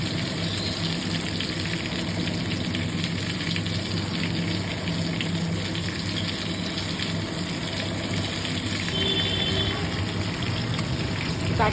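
Food fries in oil in a pan with a dense, continuous hiss and bubbling that stays even and close throughout, with no voices.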